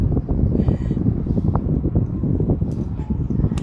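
A Nikon electric fan runs with a worn, wobbling axle, giving a steady low whirring rumble with rattling irregular knocks throughout, close and fairly loud.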